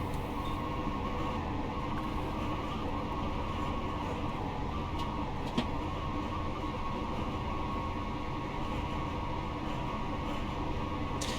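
A train in a railway simulator game runs at speed, a dense, steady rumble and rolling roar that stays loud and even throughout, with one brief click midway.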